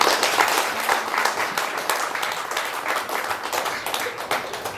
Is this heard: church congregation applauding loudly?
yes